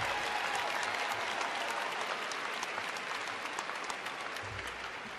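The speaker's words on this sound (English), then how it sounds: "Give them a round of applause." Steady, distant crowd applause filling a university engineering school's spring commencement ceremony, sustained and even throughout with no speech.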